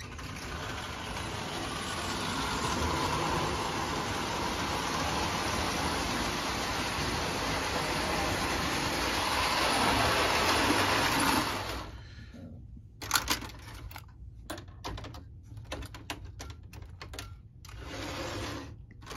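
A small electric Marx motor in an American Flyer model train engine whirs steadily for about twelve seconds, then cuts off, leaving scattered clicks and light mechanical rattles.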